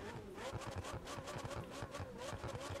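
Turbocharged V8 of a McLaren 720S Spider in the racing game The Crew 2, a low, pulsing engine burble with rapid rhythmic throbs, fairly quiet and steady, with no talk over it.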